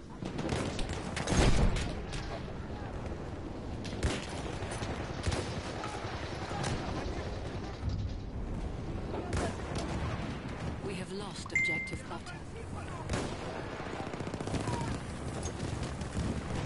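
Gunfire in the video game Battlefield 1: scattered shots and bursts, with one louder blast near the start, mixed under game noise and players talking.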